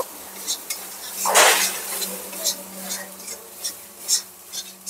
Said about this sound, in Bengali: জিরা বাটা দিয়ে আর একটু নেড়ে চেড়ে নেব।